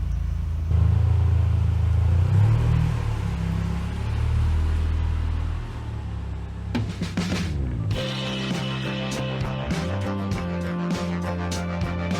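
A car engine rumbles low and steady, then a gear clunk follows and the engine revs with faint interior clicks and hum.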